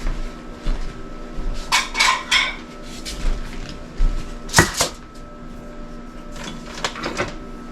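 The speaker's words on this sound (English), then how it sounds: "Let's cut a slice, see what it looks like." A knife cuts a slice from a loaf of no-sugar-added lemon blueberry bread, giving a few close scraping strokes in short bursts and a sharper tap against the board, with quiet gaps between.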